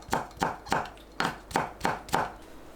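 A knife chops onion, scallion and seeded red chili on a cutting board, giving seven sharp, evenly spaced strikes close by with no voices.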